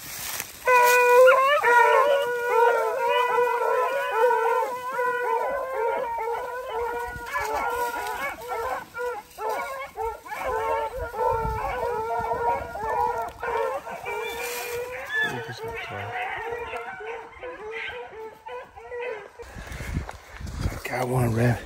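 A pack of beagles baying and howling while running big swamp rabbits outdoors, their overlapping drawn-out cries loud and continuous, some voices nearer and others farther, fading toward the end.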